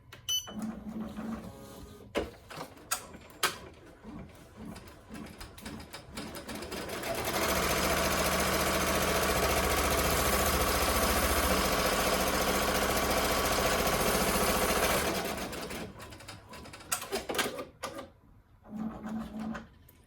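An embroidery machine stitching a placement line for an in-the-hoop coaster runs loud and steady for several seconds, rising from and fading back to scattered clicks and taps of the machine, with no talk.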